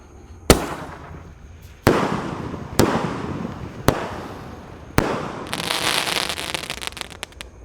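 Roman candle firework, a 1.5-inch eight-shot New Year's cake, fires five sharp loud booms at uneven intervals, each followed by crackling decay, then a dense burst of fizzing crackle near the end.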